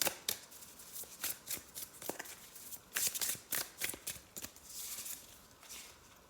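A deck of astrology cards is shuffled by hand in quick rhythmic riffles and slaps, close and crisp, repeating steadily with no talking.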